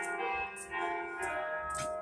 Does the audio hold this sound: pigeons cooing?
no